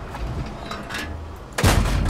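A tank in a tank combat game, a Cromwell, takes fire: a muffled distant thud followed by a sudden loud, close impact boom near the end, over low engine rumble.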